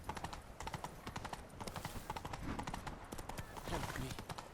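Witcher 3 horse Roach galloping, a steady run of clip-clop hoofbeats through the whole stretch, with a brief whinny and game ambience mixed in and someone talking over it.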